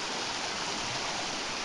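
Steady broadband rush of a waterfall at the end of a trail near a campsite, loud and continuous with no break, no voices over it.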